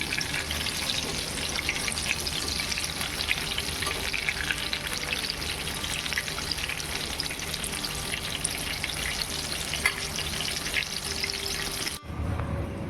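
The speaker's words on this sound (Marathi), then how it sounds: "अशीच सर्व भजी आपण आता तळून घेणार आहोत" Ridge gourd bhaji fritters deep-fry in oil with a dense, loud, continuous crackling sizzle close by, holding steady almost throughout before stopping briefly near the end.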